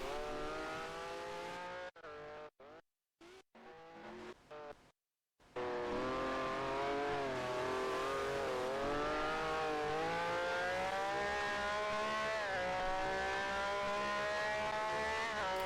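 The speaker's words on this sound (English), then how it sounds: "You can hear me over the engine?" Race car engine in the sim racing game UKGPL, loud and steady with rising and falling revs through gear changes and a few brief cutouts early on, with no talking over it.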